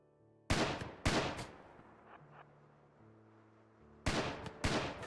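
Gunshots in a colony-building video game with a gravship, where a mom and kid exchange shooting, two sharp loud cracks, a quiet pause, then two more shots, close and alone.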